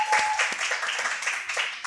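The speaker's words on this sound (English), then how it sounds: "let's keep the round of applause going to Wael" An audience at a live podcast taping claps in a brief, dense burst of applause, close and fairly loud, with no talking over it.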